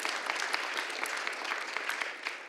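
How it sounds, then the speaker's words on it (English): Audience applause at a risk management forum in Copenhagen, a brief, moderately loud spread of many hands clapping with scattered sharper claps standing out, easing slightly at the end. "Please, a big round of applause from Copenhagen."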